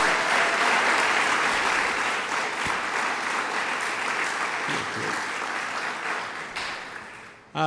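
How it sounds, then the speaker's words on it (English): Loud, sustained applause from a large crowd at a governor's bill-signing event, steady clapping filling the room for several seconds before tapering near the end. "Let's give a big round of applause to Amanda for doing a great job"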